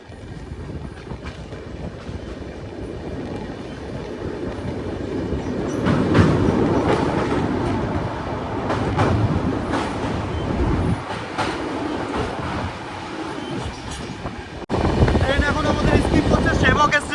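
Wheels of the Kanchankanya Express clatter over the rails beyond Siliguri in a continuous loud rumble, swelling and easing, with rhythmic clicks and a jump in intensity near the end; a voice talks over it.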